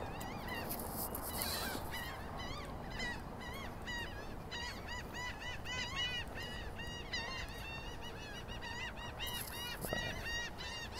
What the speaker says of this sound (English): Seagulls going crazy over there.